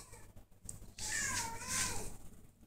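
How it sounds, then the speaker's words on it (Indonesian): A cat gives a drawn-out meow at close range, preceded by a short faint chirp, in a quiet indoor morning setting. "Terus ada kucing lagi."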